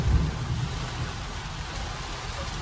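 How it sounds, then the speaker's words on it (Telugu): Heavy rain pounds a vehicle driving on a highway, a loud, continuous wash of drops with a low rumble of road and engine underneath, unbroken throughout. "చాలా బ్యాడ్లీ రెయిన్ అవుతుంది"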